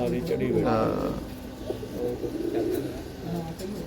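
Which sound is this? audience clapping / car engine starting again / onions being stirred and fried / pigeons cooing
pigeons cooing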